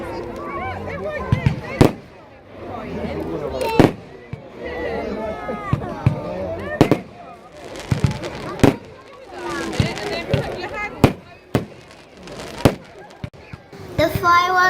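Bonfire Night fireworks burst repeatedly at a large bonfire display, loud sharp bangs and crackles scattered every second or two, with voices talking and shouting nearby between the explosions.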